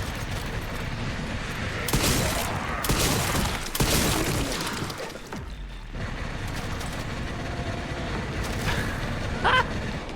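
Turret gunfire in the video game Resident Evil Requiem: loud, dense bursts of shots and booms in clusters, with heavy blasts around the middle and steady rattling throughout, no talk.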